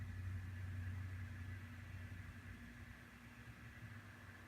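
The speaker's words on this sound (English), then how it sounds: "Now you got an RPM around 2800 RPM, and you hear the resulting fan noise." Steady mechanical hum with tonal whine, a cooling fan running at about 2800 RPM, constant and close with no voices.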